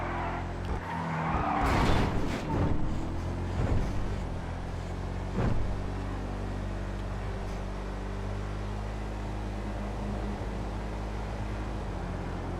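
Enus Paragon S sports car from GTA Online cruising along a freeway, a steady engine drone and road rumble with a few brief swooshes and squeals early on, then an even, continuous hum.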